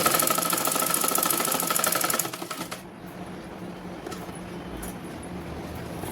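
A sewing machine stitches a blouse with a rapid, mechanical run of needle strokes. It is loud and steady for about two seconds, then drops to a softer, lighter whir. No one speaks.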